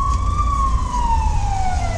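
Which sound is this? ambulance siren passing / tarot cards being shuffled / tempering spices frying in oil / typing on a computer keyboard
ambulance siren passing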